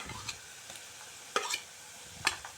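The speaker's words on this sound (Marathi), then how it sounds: "कांदा आपला भाजत आलेला आहे लालसर झालेला आहे" Onion turning reddish as it fries in oil with bay leaf gives a soft, steady sizzle, with a few light scrapes and clinks of stirring.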